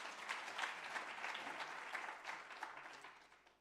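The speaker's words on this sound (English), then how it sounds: "let's give the private sector a big round of applause." A conference audience at a G20 Africa investment summit gives a round of applause, a dense patter of clapping that swells and then gradually tapers off, somewhat distant and fairly quiet.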